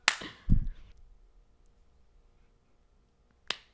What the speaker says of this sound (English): That is such a dramatic slow clap.